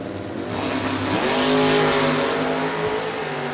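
Door-slammer drag race cars launch down the strip with loud, rising engine roar building over a couple of seconds, then holding as a dense, sustained blare.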